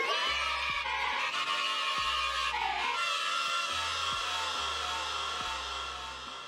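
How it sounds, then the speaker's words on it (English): Crowd of children cheering and whooping from a soundboard, a loud sustained burst of shouting voices that holds steady throughout and fades slightly at the end. "makes the children cheer in my soundboard"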